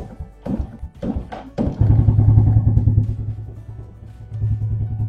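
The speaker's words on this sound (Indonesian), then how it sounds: "kita akan coba nyalakan motor sekarang" A fuel-injected motorcycle is started during a battery-voltage check: a few knocking cranks, then the engine catches into a close, loud, steady idle rumble that dips briefly and then picks up again.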